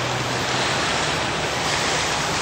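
Sea waves at Rawai Beach, Phuket: dense, continuous surf wash roaring steadily and fairly loud without pause, with no voices present.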